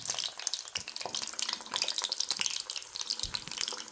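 Onion vada fritters and curry leaves crackle and sizzle steadily in hot oil, with a dense, continuous fizzing close up and no voices.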